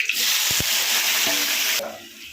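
Onion, tomato and green chilies sizzle steadily in hot oil for a chicken curry, with a few clinks of a stirring spoon against the pan and the frying easing off at the end.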